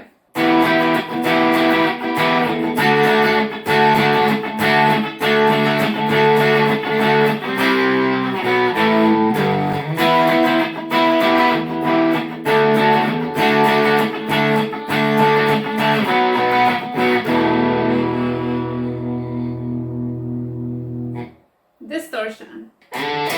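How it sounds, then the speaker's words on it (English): An ENYA Nova Go Sonic smart electric guitar plays through its overdrive setting: loud, gritty, rhythmic strummed chords for about twenty seconds, ending on a long sustained chord that rings out and cuts off. "Let's try overdrive."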